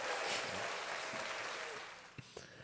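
Steady crowd applause fills the space, a dense wash of clapping that slowly eases off, with a couple of sharper claps near the end.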